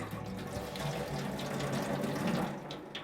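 Water runs from a tap into a sink beside a darkroom setup for developing 13x18 photographic prints, a steady close rushing and splashing that continues alone without a break.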